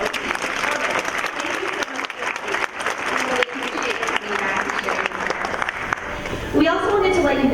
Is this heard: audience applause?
yes